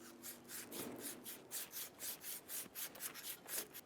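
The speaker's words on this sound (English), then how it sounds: "Using a light abrasive, we're going to clean the spindle." Light abrasive pad scrubbed over a rusty Ford Focus rear brake spindle in quick, even back-and-forth strokes, a soft rhythmic scratching heard close up and faint, with no talk.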